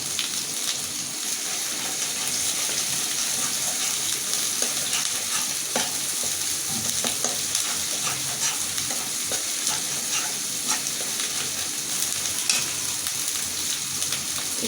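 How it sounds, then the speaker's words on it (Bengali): Cumin seeds fry and are stirred in hot oil while cooking a hilsa fish curry with kachur-mukhi, a close, steady sizzle running throughout with light scraping stirs. "এখন আমি একটু জিরে দেবো"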